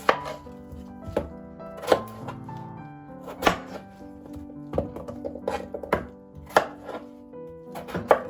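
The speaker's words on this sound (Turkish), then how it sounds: "Patatesimizi 4'e 5'e böleceğiz." A knife chops through potatoes on a board, a series of sharp, irregular thuds close by, with no talking.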